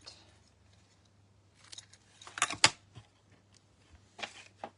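Scissors trimming a paper card for a textured fun-fold frame, heard as a few quiet snips in a short cluster, then one more cut near the end, in an otherwise hushed room.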